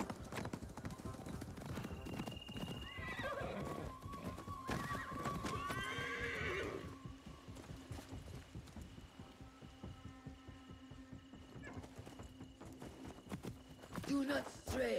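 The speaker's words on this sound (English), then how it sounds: "Alright, my horse got lost for a second there." A horse in the video game Assassin's Creed neighs and whinnies while its hooves clip-clop in a steady rhythm, with music and game effects layered over it and a voice talking throughout.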